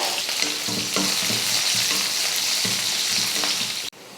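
Small shallots and curry leaves dropped into hot oil with popped mustard seeds, a loud, dense crackling sizzle close by with a few stirring scrapes, dipping abruptly near the end.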